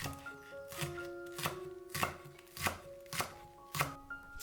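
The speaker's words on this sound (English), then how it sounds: "Mince 1 spring onion." A knife mincing a spring onion on a cutting board, crisp evenly spaced chopping strokes repeating about twice a second, close and alone while soft background music plays.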